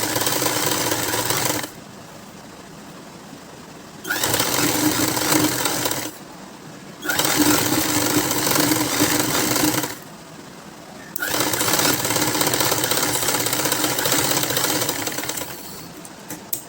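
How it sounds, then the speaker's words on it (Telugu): A sewing machine stitches a cotton baby frock made from one meter of cloth, running in three loud steady bursts of rapid mechanical whirring separated by quiet pauses. "ఇంకొక స్టిచ్ అయితే నేను వేసుకొని వచ్చేస్తాను"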